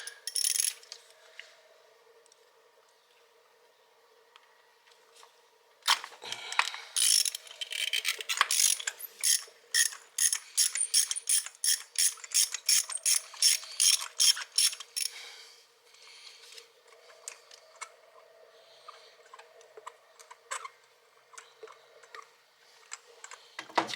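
Socket ratchet with a 14mm socket working on spark plugs, rapid close clicking bursts of the pawl, starting sparse, becoming dense for several seconds, then tapering off into scattered clicks.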